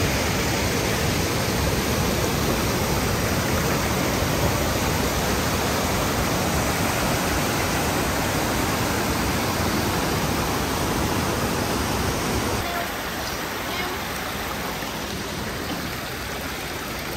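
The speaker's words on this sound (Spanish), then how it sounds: "Una cascada por la que subir." Mountain waterfall on a winter hiking route near Baños de Panticosa in the Pyrenees, a steady broadband rush of falling water that runs loud and unbroken throughout, dropping slightly in level near the end.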